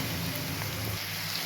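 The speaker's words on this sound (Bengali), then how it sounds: "এইবার একটু দিয়ে দেবো রসুন বাটা" Garlic paste frying in a hot wok, a steady, close, rain-like sizzle and hiss that holds evenly throughout, with nobody speaking.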